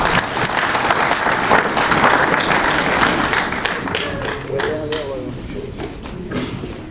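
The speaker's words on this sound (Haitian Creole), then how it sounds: "Applaudissez, s'il vous plaît" A church congregation applauds during a Sunday worship service: loud, sustained clapping from many hands with voices mixed in throughout.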